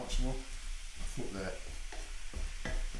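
Food flash frying in a wok at home, with a steady sizzle and stirring scrapes running throughout, while someone talks over it at close range.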